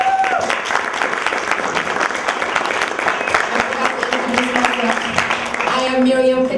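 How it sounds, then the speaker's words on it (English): Audience applause for the panelists at a career shadowing day event, loud, close clapping from a modest crowd that continues steadily, with a voice starting to speak near the end. "A round of applause for the panelists"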